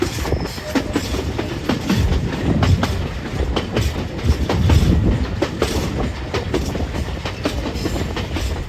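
A passenger train travelling from Puno to Cusco in Peru rolls along the rails with a loud, close rumble and irregular clickety-clack wheel beats throughout.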